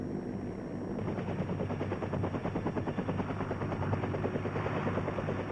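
UH-1 armed helicopters carrying rockets and machine guns, a loud steady rotor thump with rapid rattling bursts like gunfire running throughout, close and continuous.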